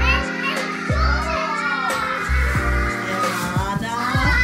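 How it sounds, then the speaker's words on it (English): Several children play and chatter close by in a holiday setting at Vincentia, New South Wales, their voices overlapping in a steady, lively din with occasional sharper shouts throughout. "these kids are so noisy"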